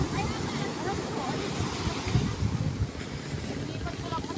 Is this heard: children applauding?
no